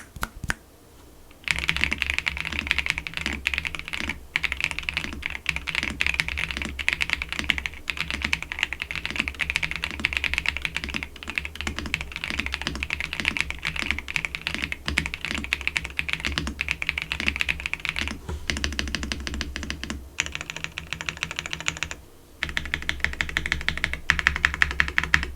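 Steady, brisk typing on an RK R75 mechanical keyboard with acoustic dampening plates and tuned stabilizers, keystrokes close and crisp in a continuous run with brief pauses and no talking.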